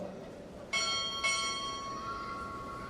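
Two strikes of a ship's bell ring out at a Navy Recruit Training Command chief petty officer pinning ceremony, each with a bright metallic onset and a long ringing decay, the second close after the first.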